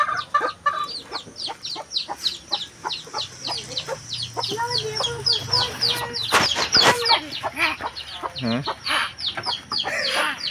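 Chickens cluck repeatedly and busily close by, with short overlapping calls at a steady, lively rhythm and occasional louder squawks, as a chicken is given a cup of water to drink.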